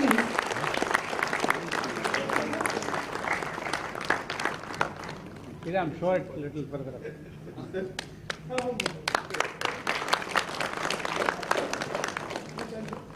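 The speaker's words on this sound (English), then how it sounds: "Can we have a huge round of applause" An audience at a foundation day celebration at CSIR-CLRI claps loudly during a memento presentation, the applause dipping midway while someone speaks, then swelling again into dense clapping.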